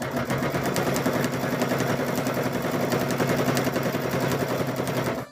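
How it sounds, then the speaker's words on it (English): A sewing machine runs steadily across mug rug fabric, its needle hammering in a fast, even, close rattle that holds constant for several seconds before stopping. "So then we're going to take and sew that across."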